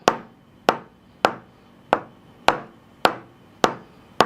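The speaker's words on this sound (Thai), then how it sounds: "ผมก็จะใช้บล็อกถอดล้ออันนี้นะครับทดสอบการเคาะโดยเริ่มจากเบา ๆ แล้วเพิ่มน้ำหนักขึ้นเรื่อยๆ" A wheel lug wrench taps a tempered glass iPhone screen protector eight times in an even rhythm, each hit a sharp, close knock that fades quickly.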